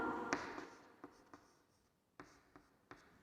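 Chalk or marker writing on a board during a basic geometry lesson, a string of short taps and scratchy strokes spaced through a quiet room, fairly close and without speech.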